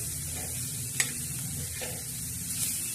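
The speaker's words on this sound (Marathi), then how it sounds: "आता हे तिखट छान असं परतून येणार आहोत" Chili sautés in a pan for a bitter gourd chutney, a low, even frying hiss close by with a single sharp tap and a faint scrape, and no talking.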